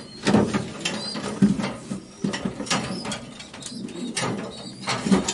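Pigeons in a loft of young racing birds, with low cooing calls repeating every second or so close by, mixed with clicking and rattling from cage fittings and wing movement, and no voices heard.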